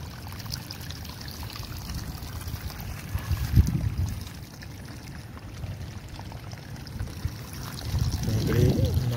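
Water pours out through a breach in a rice field bund in a Konkan village, a soft continuous trickle and gurgle with a couple of louder splashy surges.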